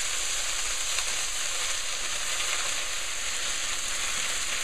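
Salted kale fries in a pan while it is stirred to wilt, a steady, even sizzling hiss that runs unbroken, close and moderate in level, with no talk.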